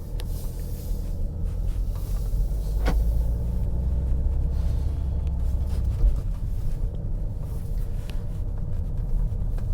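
A Vauxhall Insignia Elite CDTI Sports Tourer diesel engine, push-button started after standing a while, settles into a steady low idle rumble with a brief higher tick near the start.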